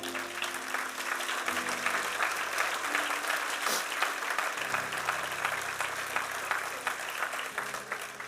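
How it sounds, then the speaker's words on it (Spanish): A church congregation applauds with sustained, dense clapping that runs evenly throughout, close and full, with faint voices under it. "Denle un aplauso al Señor."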